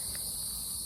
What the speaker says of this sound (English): The cicadas outside are crazy.